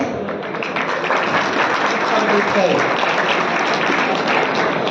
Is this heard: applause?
yes